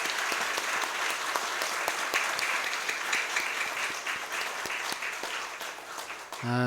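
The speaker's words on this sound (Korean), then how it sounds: "한번 박수로 격려하겠습니다." A crowd at a church worship service claps steadily for several seconds, a dense patter of applause that carries on evenly before a brief tonal sound at the end.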